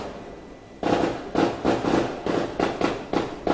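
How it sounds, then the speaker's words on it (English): Fireworks go off in a rapid series of about eight loud, sharp bursts spaced roughly evenly apart, each with a crackling tail, with no talk over them. "Fireworks."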